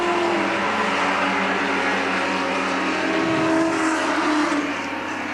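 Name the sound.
1975 Bathurst race car driving into the pits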